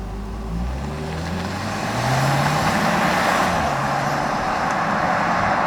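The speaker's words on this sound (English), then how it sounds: "it's probably time we switch this car into sport mode, give it some sauce" A 2023 Hyundai Kona with a 2-litre Atkinson-cycle engine accelerating in sport mode, a steady loud engine drone whose pitch climbs and shifts through the gears, heard from inside the car over road and tyre noise, with no talk.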